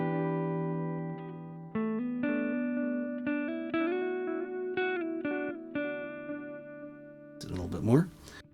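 Electric guitar played through a Donner Yellow Fall 2 delay pedal on its vintage tape setting, clean picked notes and chords ringing with soft warbling repeats and decaying echoes, followed by a brief burst of talking at the end.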